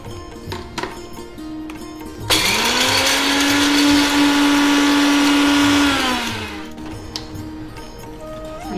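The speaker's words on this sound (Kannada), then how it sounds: "ಇನ್ನು ಇದನ್ನ ಮಿಕ್ಸಿ ಜಾರ್ಗೆ ಹಾಕ್ಬಿಟ್ಟು ಪೌಡರ್ ಮಾಡೋದು" A kitchen mixer grinder runs for about four seconds, powdering roasted sesame seeds in its jar with a loud, steady high-pitched whir that starts abruptly and winds down, surrounded by quieter room sounds.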